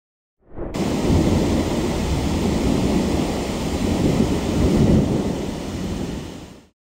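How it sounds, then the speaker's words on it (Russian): Heavy downpour with rolling thunder over Moscow, a loud, continuous roar of rain and rumbling that swells and holds steady for several seconds before fading, with no voices. "Столицу России вчера накрыл очередной мощный ливень."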